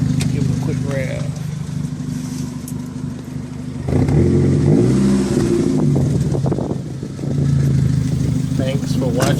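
Supercharged Chevrolet Cobalt SS engine idling, then revved once in a loud surge that rises and falls back, with a second smaller blip near the end, close to the car while a person talks.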